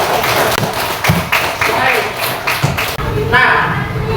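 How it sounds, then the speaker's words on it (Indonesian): Classroom of primary school students clapping their hands together, a dense run of close, sharp claps for several seconds with children's voices mixed in. "Oke, tepuk tangan dulu kita"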